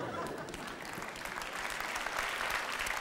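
An audience at a comedy-magic show breaks into steady, dense applause, a sustained wash of clapping that swells slightly toward the end, heard fairly close.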